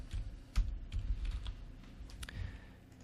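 Typing on a computer keyboard, a quick run of close, light key clicks in an irregular rhythm, alone and fairly quiet.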